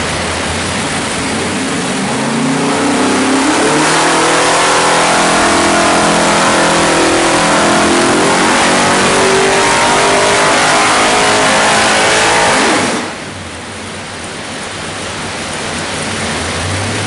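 A 572 Hemi engine fitted with Holley twin throttle bodies revs on a test stand, a loud sustained roar that rises and falls in pitch over many seconds before easing off near the end.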